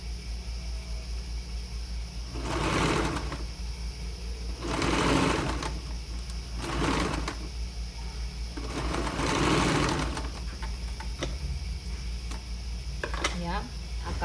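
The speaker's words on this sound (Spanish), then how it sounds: "ya he cosido todo el contorno de la manga" A sewing machine runs in several bursts of stitching along the raglan sleeve seam of a blouse, each run a few seconds long, near and steady, with quiet pauses between.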